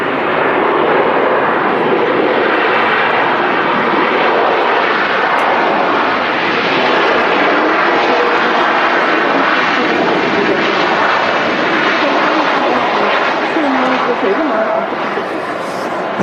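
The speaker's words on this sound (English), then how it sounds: "the aircraft is taxiing out at the moment, 737-800" A Boeing 737-800 taxis at Manchester Airport, its jet engines producing a loud, steady broadband roar and whine that holds throughout, with a faint shift in tone near the end.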